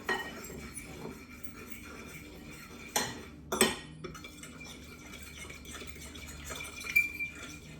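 A panko breadcrumb and Parmesan cheese mixture for chicken Parmesan being mixed in a bowl, with a utensil clinking and scraping against the dish in a few distinct knocks over quiet room tone.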